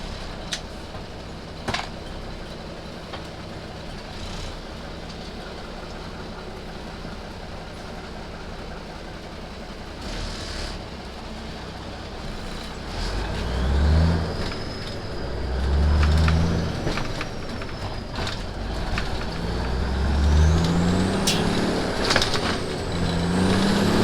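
A truck with a 350 Big Cam engine and a new injection pump accelerating hard as the tires break loose, a steady heavy engine drone that swells into rising, throbbing revs near the end.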